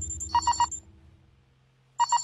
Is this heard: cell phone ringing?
yes